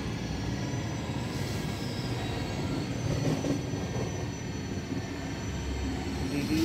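A train runs on track in the Indian Railway Simulator mobile game, slowing as it nears DDU station. The steady, loud rumble of wheels on rails carries a faint squeal and no pause throughout.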